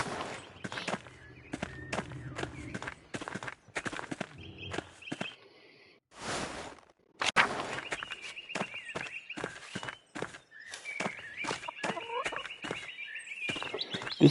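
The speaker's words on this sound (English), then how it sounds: "I love the chickens." Chickens cluck in the medieval video game Pentiment, a run of short, close clucks mixed with footstep-like scuffs and a brief quiet gap midway, with no talking.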